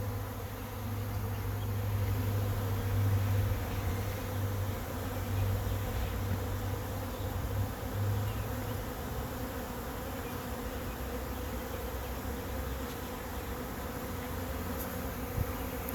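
A honeybee swarm hums steadily as it moves into a trap among tree branches, a dense continuous outdoor buzz that stays even throughout with no talking.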